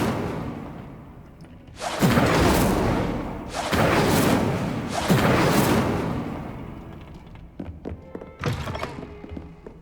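Incendio fire spell cast in Hogwarts Legacy, three heavy whooshing bursts of flame in a row followed by a fourth shorter burst, close and loud, with no talk over them.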